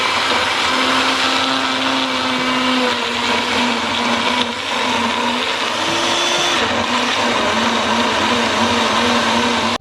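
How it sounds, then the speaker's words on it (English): A kitchen blender purees one onion and one habanero pepper for okra soup, a loud, close, continuous whirring drone with slight shifts in pitch as the contents churn. "I'm going to blend 1 onion and 1 habanero pepper"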